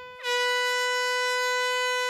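One long, loud foghorn blast, sounded to scare off flying foxes, starts abruptly and holds a steady, blaring tone, close and alone.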